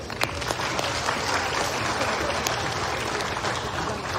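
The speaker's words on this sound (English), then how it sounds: "Please give them a round of applause." Steady audience applause fills a retirement ceremony for a COMELEC chairman, with dense continuous clapping throughout and a few sharper claps standing out.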